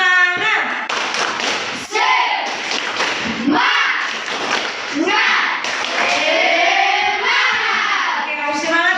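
A class of students performs a rhythmic spirit clap in a classroom, with sharp patterned hand claps and thumps mixed under loud chanting children's voices throughout.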